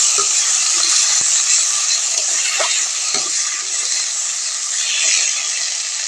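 Ginger, garlic and green chili paste frying in a pan, giving a steady bright sizzle and hiss with a few soft clicks and stirring scrapes, close and continuous.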